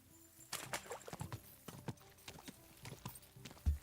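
Horse hooves slapping and splashing through shallow water in the video game Kingdom Come: Deliverance 2, an irregular run of sharp hits, fairly quiet, with no voices.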